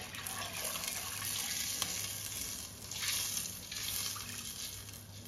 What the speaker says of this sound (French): je vais rajouter à peu près ça d'eau